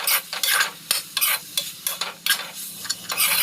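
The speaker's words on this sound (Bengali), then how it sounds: "তেলে নেওয়ার পরে শাকগুলো ভালোভাবে মিশিয়ে ভাজা ভাজা করে নিতে হবে।" Thankuni greens are stir-fried in hot oil with black cumin seeds, in a village-style kitchen. Loud, close sizzling comes in repeated bursts as a spatula scrapes and tosses the leaves in a rhythmic stirring pattern.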